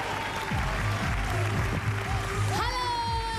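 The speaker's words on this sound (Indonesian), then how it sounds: "berikan tepuk tangan" Studio audience at an evening dating game show clapping and cheering continuously at moderate loudness, with a rising musical swell near the end.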